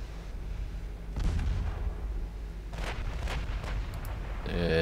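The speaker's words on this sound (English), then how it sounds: "New Mexico is firing HE" Battleship New Mexico firing high-explosive shells in the naval game Ultimate Admiral Dreadnoughts, heard as a loud deep boom followed by a few sharp cracking salvos over a steady low rumble of sea and engine noise.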